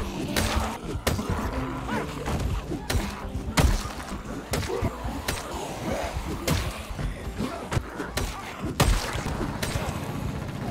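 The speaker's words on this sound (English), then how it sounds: "That's gunshots, alright." Gunfire in the video game Project Zomboid, a chaotic volley of sharp cracks and thuds at irregular intervals, some louder and closer, over a busy background with occasional voice.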